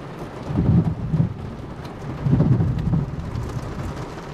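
Heavy rain hisses steadily at a camping trailer by Lake Camanche while low rumbles of thunder roll through twice, loud and close.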